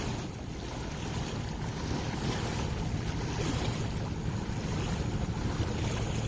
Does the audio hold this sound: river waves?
yes